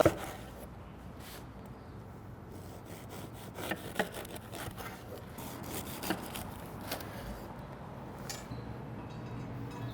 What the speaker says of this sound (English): We're gonna cut some nice thick slices on the bias here.